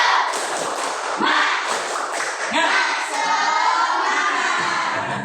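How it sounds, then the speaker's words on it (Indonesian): A primary school class performs the 'tepuk semangat' clapping routine together, rhythmic claps and thumps in rapid patterned bursts mixed with children's voices chanting and shouting along, loud and close throughout. "coba kita sama-sama tepuk semangat ya"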